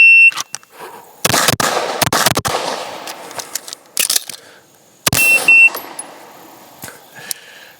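Rapid pistol shots from a Fowler Industries Vanta 9 handgun at a shooting range, opening with a shrill electronic shot-timer beep, then loud sharp cracks in quick bursts with short pauses, a second beep midway, loud and close.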